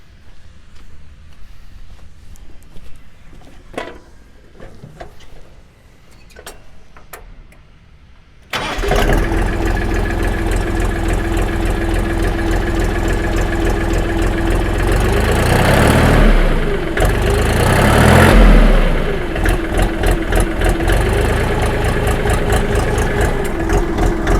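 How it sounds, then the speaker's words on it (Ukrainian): Quiet outdoor sounds, then a small Kentavr walk-behind tractor engine starts abruptly and idles loudly and steadily, with a brief rise in revs partway through. "послухаємо роботу двигуна Юде."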